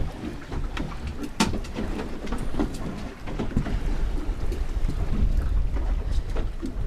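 Strong wind buffets a fishing boat at sea roughly half a mile offshore, a loud continuous roar with gusty rumbles and occasional sharp knocks and splashes close by.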